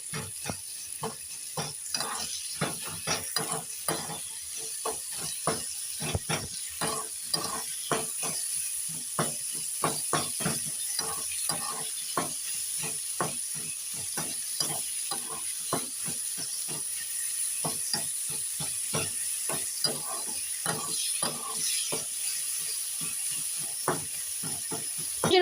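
Koi fish frying in oil with salt added, stirred repeatedly: a steady bright sizzle and hiss runs throughout, punctuated by dense rhythmic scraping strokes of the spatula, close and fairly loud, with no talking.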